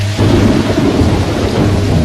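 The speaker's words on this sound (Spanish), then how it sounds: "Volvimos al club y empezó a llover fuerte." Heavy rain pours down during a storm while thunder rumbles low and continuous, a loud, dense wash of sound close by with no voices.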